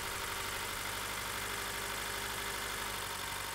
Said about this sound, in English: Start engine. Allow to idle.